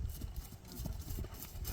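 A black horse with a white blaze, ridden out after a long spell of standing, clip-clops in a quick, steady hoof rhythm at moderate distance, with no voices.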